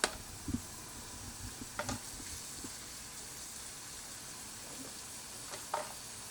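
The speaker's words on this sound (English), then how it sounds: "So you add a little olive oil to cook that in a small skillet here." Soft steady sizzle of onions frying in olive oil in a small skillet, low and continuous, with a few light clinks and stirring scrapes.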